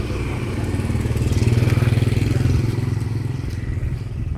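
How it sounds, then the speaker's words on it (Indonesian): A motorcycle engine runs close behind, a steady loud throbbing drone that swells in the middle and eases off toward the end. "dan ada motor di belakang gue,"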